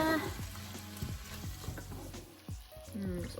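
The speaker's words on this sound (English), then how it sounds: "So give that all a stir" Plum tomatoes in a moussaka sauce are stirred in a pan, with a steady sizzle and a rhythmic series of low scraping strokes about every half second, while a voice is heard faintly in the background.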